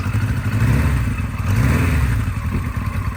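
A 1975 Kawasaki RS Z2 750 motorcycle engine runs loud and close, a steady rumbling idle with slight swells in revs and mechanical clatter, with no voices over it.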